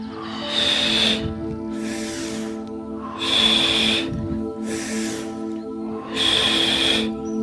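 Deep breathing during a pilates exercise: five long, airy breaths, each lasting about a second, come close and clear over a soft steady tonal background.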